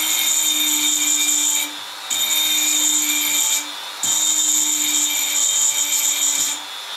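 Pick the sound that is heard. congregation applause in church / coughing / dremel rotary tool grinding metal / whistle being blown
dremel rotary tool grinding metal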